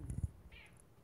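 A short, thin cat meow from a pet cat during an indoor livestream, faint and brief, following a few low thumps and handling noises; nobody speaks over it.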